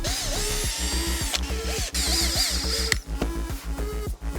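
A power drill drives screws into RC crawler body mounts in short whirring bursts that rise and fall in pitch. The bursts are close and loud, with brief gaps between them.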